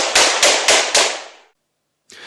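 Four sharp shots from a Kalashnikov assault rifle ring out in quick succession, loud and close, each echoing briefly, followed by silence and a faint noise.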